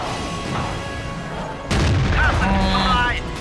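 A tank's main gun fires once in World of Tanks, a single loud, heavy boom that lands midway and rings out over the steady rumble of battle.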